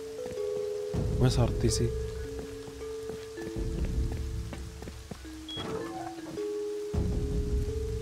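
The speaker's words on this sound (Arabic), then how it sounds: "كابسة مطر ما شاء الله" Heavy rain pours in the game Rust, a steady broadband hiss running through the whole stretch, with someone talking over it and game sounds and tones cutting in now and then.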